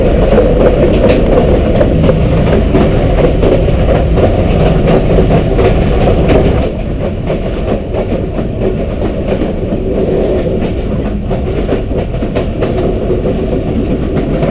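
Mehr Express train on the Rawalpindi to Multan route, a loud, continuous rumble of a carriage interior with rhythmic wheel clatter over the rails, the level easing a little midway, and no talk.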